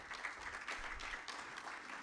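Brief, quiet audience applause at a corporate annuity plan launch, a soft wash of many hands clapping evenly and heard from some distance.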